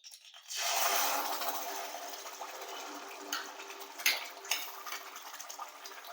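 Masala paste hitting hot oil for a spicy Dodaro fish thali, a sudden broad sizzle that starts loud and settles into a steady frying hiss, with a few clinks and scrapes from the pan, no talking.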